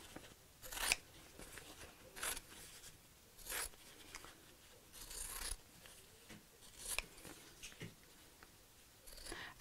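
Scissors snip through fabric while a Christmas cone advent calendar is being sewn, giving a series of short crisp cuts in an irregular rhythm, fairly quiet and close, with no talking.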